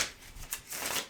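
Tarot cards are shuffled quietly and close, giving a soft riffling flutter in short uneven bursts with brief pauses between them.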